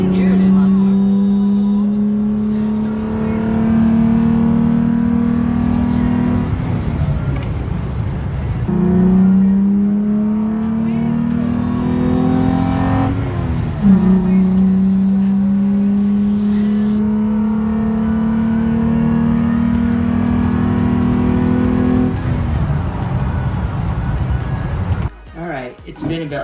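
A 2005-2011 Toyota Tacoma with a 4.0L engine and a K&N 63 series cold air intake pulls through repeated rising engine sweeps on a test drive, each shift dropping the pitch before it climbs again, steady and fairly loud.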